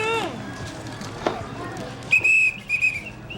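A shrill whistle blasts sharply a few times in short bursts at an outdoor market, while people talk and call out nearby.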